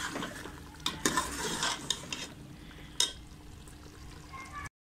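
Masala with tomatoes roasted and stirred in a pan for a mutton curry, a utensil clanking and scraping against the metal in a few sharp hits over a continuous bright sizzle, close by.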